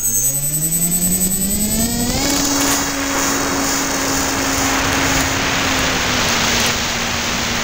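Twin Grayson Hobby micro jet engines on a small RC plane spool up, a rising whine climbing in pitch over two seconds, then settle into a loud, steady high-pitched turbine scream with broadband roar, running continuously up close.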